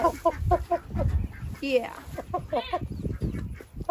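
A chicken rescued from a large commercial chicken house clucks in rapid, rhythmic bursts close by on a farm, with other fowl calls and a person speaking briefly.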